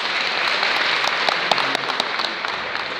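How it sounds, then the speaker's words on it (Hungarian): An audience at a Hungarian community festival claps loudly and steadily, a dense wash of applause with a few sharper individual claps standing out, and no speech over it. "Nagy tapsok!"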